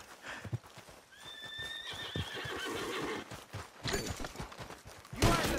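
A horse whinnies with a rising, drawn-out call while hooves clatter and thud beneath it, amid busy action noise in the video game Red Dead Redemption 2.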